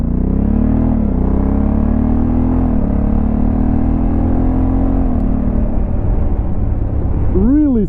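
A 2022 Honda CRF1100L Africa Twin Adventure Sports DCT motorcycle rides on light throttle over rough tarmac, its engine a loud, close, steady drone that shifts pitch slightly as it goes, with wind rush.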